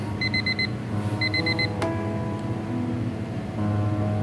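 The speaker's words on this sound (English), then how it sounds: "The same alarm tone that Harry can sleep through." In the video game Fragments of Him, an alarm clock beeps in two quick bursts of four, pausing between them, over a dense, steady ambient bed.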